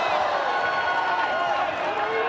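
Arena crowd roaring steadily through an MMA bout in the Philippines, a broad sustained wash of cheering voices at a constant loud level.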